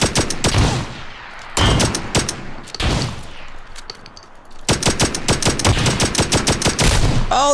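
Rapid automatic gunfire from the battle royale game PUBG, with several dense bursts of loud, close shots separated by brief pauses, ending in a sustained volley.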